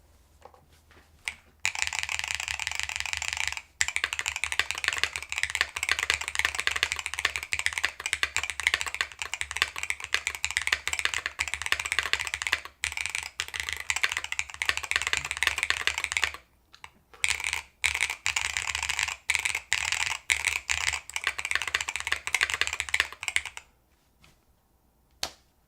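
Rapid, steady typing on a Ticktype HE mechanical keyboard, dense clacking keystrokes close up for over twenty seconds with a brief pause midway and silence at the end.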